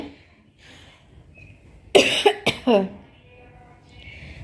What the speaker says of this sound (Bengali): কাশি কমতেছে না